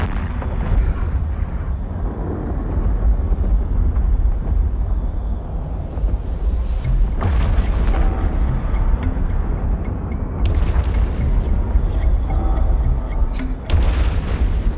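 Heavy weapon shots and booming impacts from a Brutix ship in an EVE Online space battle, deep and rumbling, with several sharp bursts rising over a continuous low roar.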